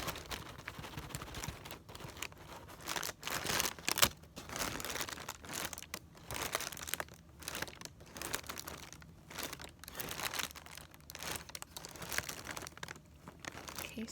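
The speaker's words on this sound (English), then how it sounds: "It's awkward, like I don't want to squish the paper." Paper being squished and crumpled by hand in a quiet room during a shopping haul unboxing, a long run of close, crisp crinkling and rustling bursts with brief pauses, no voices.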